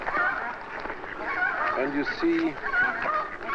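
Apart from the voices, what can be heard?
ducks and geese calling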